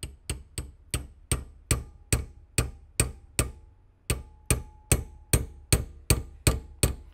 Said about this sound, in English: you know you're hitting it right when all the energy from the hammer goes right down the punch